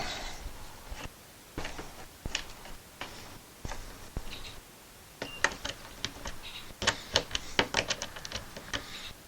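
A ratchet and screwdriver turn a fastener on a floating pool chair being assembled, giving sparse clicks at first, then quicker runs of sharp ticking close by, with no talking.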